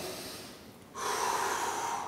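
A person doing crunches at a home fitness workout breathes in through the nose and out through the mouth, with a soft breath followed by a longer, louder, steady rushing exhale close to the mic.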